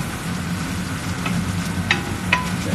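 Thai curry with turmeric and ginger being stirred in a pan in a home kitchen, a soft continuous sizzle with a few scraping strokes of the spoon, close and moderate in level.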